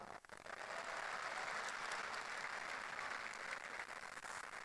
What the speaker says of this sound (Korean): 서로에게 격려의 박수 한번 부탁드립니다.